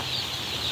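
Sonali super hybrid chicks, about 5000 of them in a poultry shed, give a dense, steady high-pitched peeping and chirping that stays close and continuous throughout.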